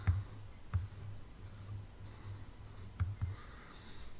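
Pencil or marker sketching a Stegosaurus on paper, with soft scratchy strokes coming in short bursts and quiet pauses between them, close and fairly faint, no talking.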